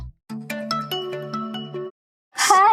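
A phone ringtone plays a short, bright electronic melody of evenly spaced tones, loud and close, then cuts off before a brief burst of another sound.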